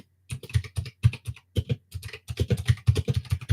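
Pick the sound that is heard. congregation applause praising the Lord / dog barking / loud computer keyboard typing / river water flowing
loud computer keyboard typing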